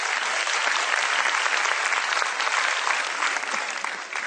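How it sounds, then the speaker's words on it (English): Audience at a school annual function applauding steadily, a dense wash of many hands clapping that stays loud and even throughout, with no voices rising above it. "Let's give them a big round of applause."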